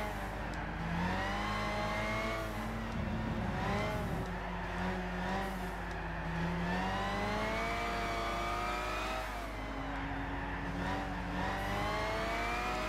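A race car engine in Gran Turismo 6 holds third gear through an S-bend, a steady loud harmonic drone that rises and dips with throttle, with occasional faint tire squeal.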